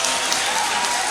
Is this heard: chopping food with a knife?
no